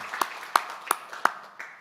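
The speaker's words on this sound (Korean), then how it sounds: "박수 쳐드리겠습니다" A church congregation claps for a deaconess. Five or six separate, spaced hand claps ring out in a slow, even rhythm at a moderate distance, with no talking over them.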